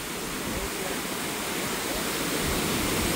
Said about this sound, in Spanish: Estamos llegando a las cascadas del Puente de Fierro.